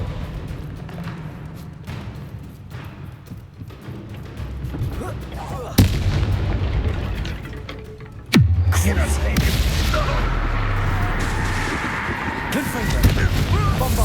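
Bombarda explosion spells go off in Hogwarts Legacy, two sharp loud blasts that each roll into a heavy rumbling tail over continuous battle noise, with a voice speaking at times.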